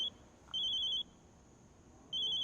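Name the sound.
telephone ringing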